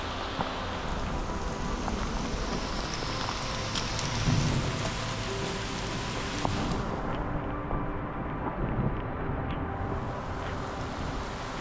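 Heavy rain pours down steadily through trees in Maine's 100 Mile Wilderness on the Appalachian Trail, a dense wash of hiss with scattered drips and splatters, continuous and close throughout.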